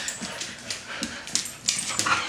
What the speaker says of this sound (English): picking on the puppy dog